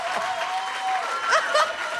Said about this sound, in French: Applaudissez-les pour de vrai.